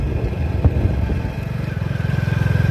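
A motorcycle ridden through village lanes in Thal, Pakistan, its low engine drone steady and close, breaking into a quick rhythmic throbbing pulse in the second half, with a brief clatter near the start.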